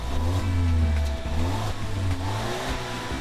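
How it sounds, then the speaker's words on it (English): A 2016 Volvo XC90 turbocharged and supercharged four-cylinder engine revs up and drops back repeatedly, a mid-pitched drone with little exhaust character rising and falling close by. "There's no character from its exhaust note."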